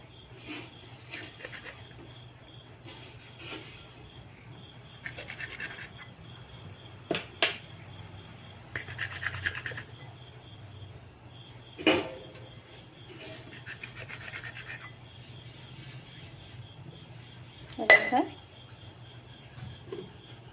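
A steel glass pressed and twisted through rolled momo dough for beef keema momos, giving soft, intermittent rubbing and scraping strokes with occasional sharper taps, close but quiet.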